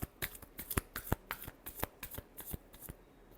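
Tarot cards are shuffled by hand in a rapid run of crisp riffling slaps and flutters, close and clear with no talking.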